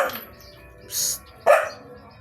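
A dog gives two sharp barks, the second louder and closer, over a steady background hum in an outdoor setting.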